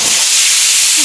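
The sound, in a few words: pressure cooker whistle while cooking mutton biryani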